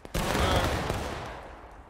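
A volley of musket fire erupts in a video game battle, a loud ragged burst of overlapping shots trailing into rumbling decay, briefly preceded by a quiet moment.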